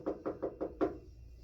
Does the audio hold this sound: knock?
yes